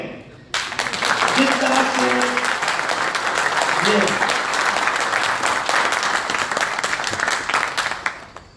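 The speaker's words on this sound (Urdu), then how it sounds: "یہ تالیاں بہت کم ہیں." At a team dinner, a crowd bursts into sustained, loud applause that continues steadily for several seconds, with a few voices faintly audible underneath, then tapers at the end.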